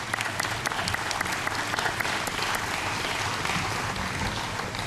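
A crowd at an outdoor Dixieland jazz festival gives the host band a strong round of applause, dense continuous clapping that holds steady throughout with a few faint voices mixed in.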